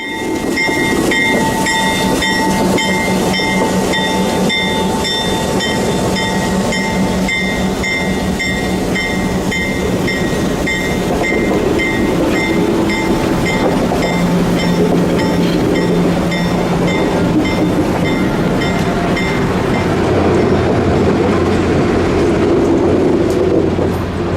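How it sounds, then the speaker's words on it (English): A Santa Fe Golden Gate passenger train, number 62, rolls through Pittsburgh heading east, its wheels and cars rumbling loudly and steadily close by, with clattering over the rails throughout as it arrives and departs. "Golden Gate train number 62 arrives and departs heading east"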